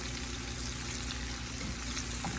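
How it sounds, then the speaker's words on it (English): Squash being tossed in butter in a skillet gives off a soft, continuous sizzle and frying hiss with a low background rumble, steady throughout and without speech. "we'll get it tossed around in this butter where everything gets mixed up good and coated with the butter"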